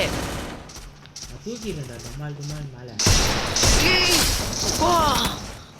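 Gunfire from a shooter video game rings out in rapid bursts of shots, including headshots, under excited talk from players and mixed with other game effects.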